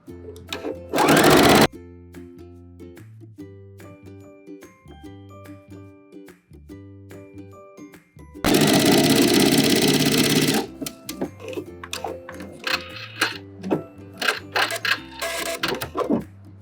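A sewing machine runs zigzag stitches across elastic on handmade tie-up bikini-style underwear, with short stuttering bursts, pauses and one long steady whirring run, close and loud and without talk.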